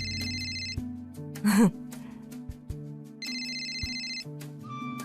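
A mobile phone rings in a Turkish-dubbed Indian drama, a repeated electronic ringtone pattern over a soft background tone, interrupted by a short gasp and a few light clicks.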